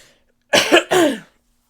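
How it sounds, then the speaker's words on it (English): Two quick, close coughs in succession, dry and forceful, with silence before and after. "now I'm coughing"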